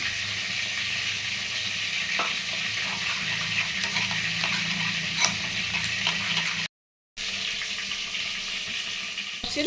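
Eggplant pieces fry in hot oil in a pan for a Bengali eggplant dish, a steady close sizzle with occasional crackles and light stirring taps, briefly cut to silence before the sizzling resumes.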